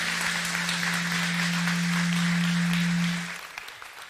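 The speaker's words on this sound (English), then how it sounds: "First, can we give Amanda a round of applause?" Steady applause from a crowd fills the space, with a low hum underneath, then the clapping fades out near the end.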